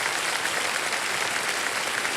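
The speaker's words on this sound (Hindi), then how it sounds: "जोरदार तालियां बज जाए" Steady, dense applause from a crowd, clapping evenly throughout with no voices standing out.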